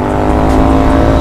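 A Continental GT 650 motorcycle fitted with a Barrel Atom exhaust thrums loudly and up close, its deep, steady exhaust note filling a short burst.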